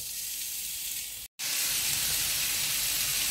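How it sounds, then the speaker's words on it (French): Guanciale or pancetta cooking like lardons in a pan sizzles with a steady, bright hiss, cut by a brief gap and then returning louder and fuller. "la guanciale ou la pancetta, tout dépend de ce que vous allez utiliser. Et pareil, on va laisser cuire comme des lardons."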